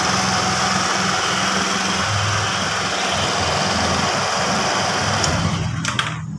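A Honda Vario 110 scooter engine that had been stalling runs at a steady idle, a loud continuous buzzing hum close by with no talk, faltering briefly near the end.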